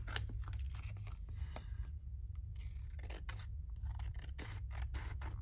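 Scissors cut out paper ephemera for a French Rococo-themed journal, giving a string of faint, close snips and paper rustles spread through the clip with no talking.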